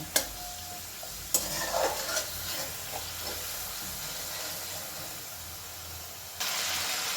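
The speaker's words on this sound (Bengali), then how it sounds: "মশলাটাকে একটু নেড়ে চেড়ে কষিয়ে নেব।" Spice paste with ginger being stirred and fried in a pan for dum aloo, heard as soft sizzling with a few scraping stirs, a brief clatter near the start and a louder hiss toward the end, no speech.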